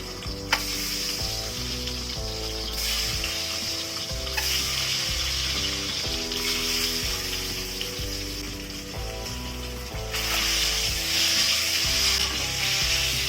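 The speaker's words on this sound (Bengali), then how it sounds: "তেলটা গরম হয়ে গেছে এবারে ডিমগুলি ভাজার জন্য তেলের মধ্যে ছেড়ে দিচ্ছি" Eggs fry in hot mustard oil in a wok, giving a steady, bright sizzle that runs throughout and swells near the end, heard beneath prominent background music with no talking.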